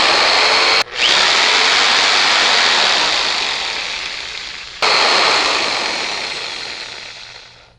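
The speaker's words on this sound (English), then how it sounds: "You have a device, a motor, that is transferring a percussive back and forth motion" The motor of a percussive massage gun whirs with a loud, steady buzz. It cuts out briefly twice and starts up again, and its pitch and strength sag slowly as it runs.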